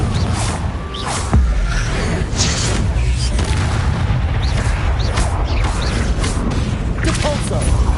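In Hogwarts Legacy, a Confringo fire blast spell explodes amid loud, dense battle noise: a heavy boom near the start followed by continuous rumbling and crackling bursts, with a voice present.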